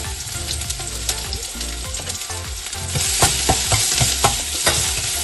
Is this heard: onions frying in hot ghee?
yes